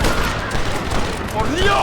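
Gunfire breaks out during a shootout with rebels in the video game Red Dead Redemption, a dense burst of overlapping shots and booms with some sound of voices mixed in.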